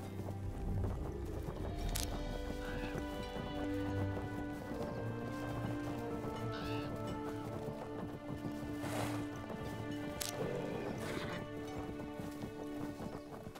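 Horse hooves clip-clop steadily in the Fractured Online video game as the horse moves along, set against a busy bed of in-game ambience.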